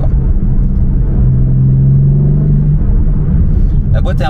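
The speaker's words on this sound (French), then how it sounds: "cette voiture a un système sonore dans les enceintes pour vous faire croire que la voiture fait du bruit" A BMW M4 Competition G82 with a stage 2 tune gives a steady, loud engine rumble from inside the cabin, partly piped through the car's speakers. The drone is sustained throughout, and a sharper burst arrives near the end.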